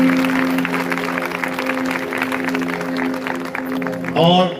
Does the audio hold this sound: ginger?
no